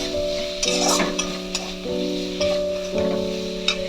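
A spoon stirs fried potatoes through fish curry masala with potato and brinjal in a pan, giving repeated scraping strokes over a soft sizzle, close and fairly loud, with a steady hum underneath.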